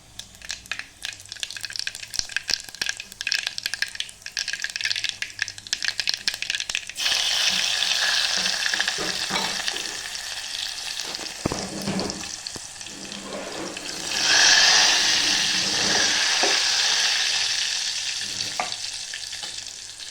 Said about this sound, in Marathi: त्यात थोडासा बी लसण ठेचून घेतला आहे. लसण टाकते.